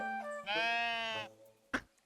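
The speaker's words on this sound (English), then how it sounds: "Gotta make sure the ducks and the sheep are doing good." A sheep in a cozy building video game (Tiny Glade) bleats once in a long, wavering, nasal cry, clear and close, followed by a brief sharp click.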